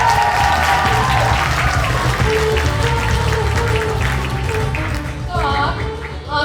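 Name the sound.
audience applause at award ceremony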